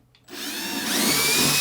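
A power drill bores into a fresh sheet of drywall, starting abruptly after a brief quiet moment and whining steadily louder as the bit bites in, close and alone.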